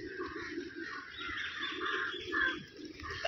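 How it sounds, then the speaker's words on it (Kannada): Pigeons crowded in a tree give a continuous layered chorus of calls and cooing, moderately close, with no talk. "ಎಷ್ಟು ಪಾರಿವಾಳ ಇದೆ ನೋಡಿ, ಮರ ಎಲ್ಲ ಅದೇ. ಒಳ್ಳೆ ಸ್ಪೀಕರಲ್ಲಿ ಕೇಳ್ತಂಗೆ ಗುರ್ರು ಗುರ್ರು ಗುರ್ರು ಅಂತಿರೋದು"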